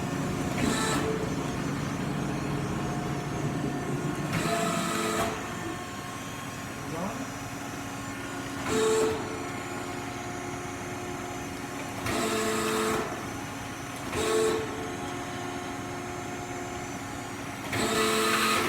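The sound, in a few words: Betenbender 50-ton hydraulic press brake stroking down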